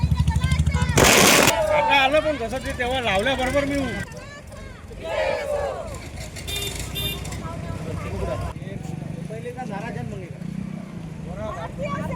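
Crackling firecracker bursts and loud pops ring out amid a noisy crowd, with people shouting and chanting over the festive racket at a street celebration saluting the Indian Army.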